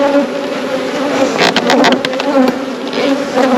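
Honey bees buzz steadily from an open beehive during a hive inspection, a dense close hum that holds throughout at a constant loudness.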